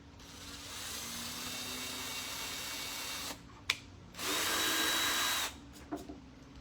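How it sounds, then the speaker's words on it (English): Power drill boring screw holes into a hinged wooden sewing table, a steady whirring run for several seconds, a short gap with a click, then a second burst of drilling and a couple of brief taps. "And don't drill in too deep."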